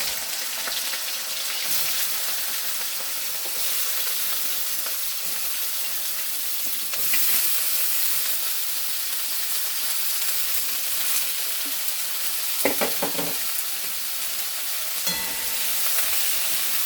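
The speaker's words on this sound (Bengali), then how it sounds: "তেল গরম হয়ে গেছে, সবজিগুলো সব দিয়ে দিচ্ছি।" Mixed vegetables sizzle in hot white oil in a kadai, frying continuously with occasional scraping and clattering stirs. The hiss is moderately loud and steady, with no one talking.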